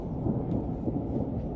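Thunder rolls low and heavy through a rain storm, a dense continuous rumble close by, with no voices.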